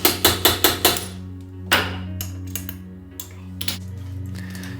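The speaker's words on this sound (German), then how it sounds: "um vorne die Passhülse einzuschlagen, die die Motorhälften zueinander positioniert" Hammer driving a dowel sleeve into the engine case halves of an MZ ETZ 250 motorcycle, five quick ringing metallic blows in a row, then a single harder strike and lighter taps over a sustained metallic ring.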